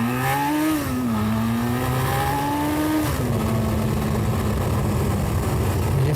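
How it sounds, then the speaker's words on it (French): A cheap four-cylinder motorcycle engine hums steadily while riding on a road, its pitch rising and falling through gear changes, close and loud throughout with no talk. "On peut prendre plaisir, je pense, sur cette moto."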